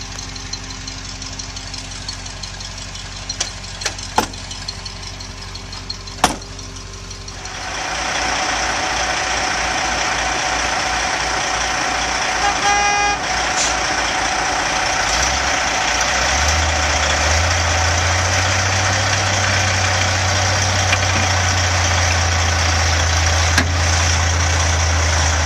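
A diesel semi truck stuck in mud is quiet at first, then its engine starts and runs loudly. The heavy idle knocks and later deepens into a low rumbling rev that continues steadily to the end.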